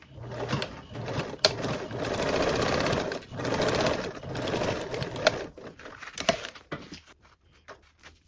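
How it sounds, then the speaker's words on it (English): A sewing machine runs a seam in a couple of steady whirring stretches, close and moderately loud, followed by quieter handling clicks and taps. "And then sewing with that 3/8 seam allowance."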